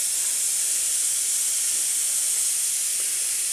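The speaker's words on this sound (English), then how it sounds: "Potatoes back here frying up still." Potatoes fry in a pan with a continuous, even, close sizzling hiss that holds steady at moderate loudness throughout, with no voices.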